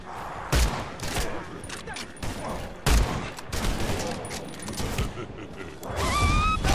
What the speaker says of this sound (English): I have to shoot, I'll shoot.